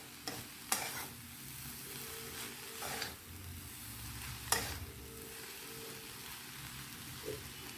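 Grated papaya thoran fries in a pan with a soft steady sizzle while a spoon stirs it, giving a few sharp scraping strikes spaced across the stretch, quiet and close.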